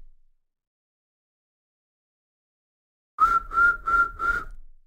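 Four short, bright whistled notes from a beatbox Ralik whistle, the tongue tip held above the bottom lip, come in quick even succession after about three seconds of silence, alone and close.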